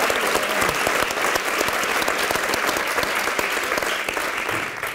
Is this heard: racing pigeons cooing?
no